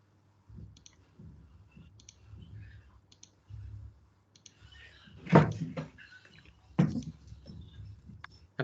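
Mouse clicks on a computer button, a series of short sharp clicks spread across the clip over a low steady hum, with two louder clicks standing out midway.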